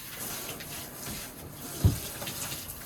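Tap water running into a tub for bathing a wolf-blooded dog during grooming, a steady broadband rush at low level, with a single brief thump partway through.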